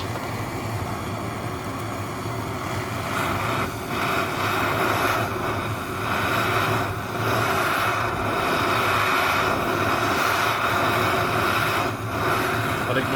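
A gas torch flame heating a Kenyan 10-cent coin during ring making, a steady loud roaring hiss that swells and dips slightly throughout, with faint talk.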